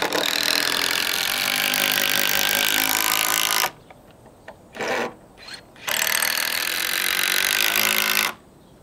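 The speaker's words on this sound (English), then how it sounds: "I'm going to put them in with the impact driver." An impact driver whirs and rattles in long bursts, pausing with short clicks between, as self-tapping screws are driven into wooden pergola rafters at close range.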